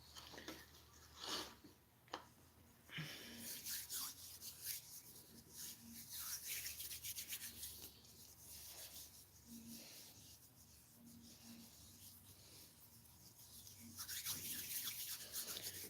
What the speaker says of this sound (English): rubbing your eggs